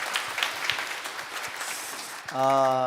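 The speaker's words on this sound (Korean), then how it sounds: "우리 한번 방송부에 한번 힘차게 격려의 박수" Applause from a church congregation during a Korean Sunday service, steady mass clapping for about two seconds before a sustained organ or keyboard chord cuts in and rings on loudly.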